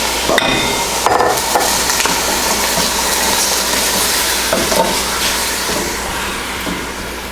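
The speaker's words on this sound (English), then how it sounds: "The oil is hot. We're going to get these shrimp in here." Peeled, deveined shrimp hit hot oil in a pan, giving a steady, loud sizzle with a few sharp clinks and clatters from utensils early on, no talking over it.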